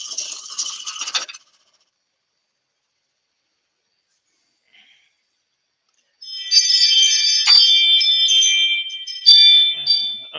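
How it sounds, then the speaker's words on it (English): A doorbell chimes in a woodturning workshop, a short ringing burst at the start and a longer electronic chime later, with silence between. "That'll be your doorbell."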